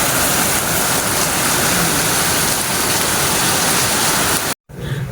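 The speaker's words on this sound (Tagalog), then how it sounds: "ang lakas na po talaga ng ulan dito sa amin" Heavy rain roars in a dense, constant wash of noise, loud and close, then cuts out abruptly near the end before faintly resuming.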